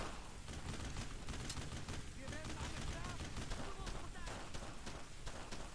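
Dense, continuous gunfire and explosions rumble through a World War II firefight in Brothers in Arms: Road to Hill 30 on PS2, sustained bursts under shouted voices throughout.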